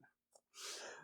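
A single person's sneeze, a short intake of breath followed by a sharp hissing burst, fairly quiet and alone with no talking.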